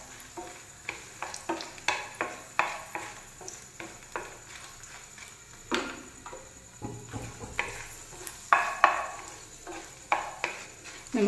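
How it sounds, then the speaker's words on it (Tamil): Dried red chillies fry in a kadai for a coriander leaves thokku, with a low sizzle under repeated scraping and stirring strokes of a spoon against the pan, irregular and close. "இப்போ அதே கடாய் அடுப்பில் வச்சுட்டு காஞ்ச மிளகாய் நல்லா ஃப்ரை பண்ணுங்கள்."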